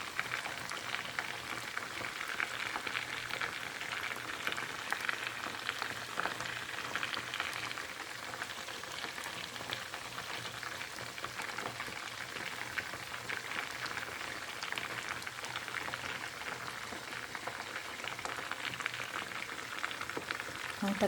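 Meat cooks in a pan over lowered heat, giving a continuous soft sizzle and crackle, even and close, with no talk over it.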